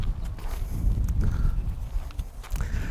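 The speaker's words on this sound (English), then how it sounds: "so if we bring this horse around this way" A carriage horse is led around on foot, its hooves giving a few soft, irregular clip-clop steps at a moderate distance against a breezy outdoor background.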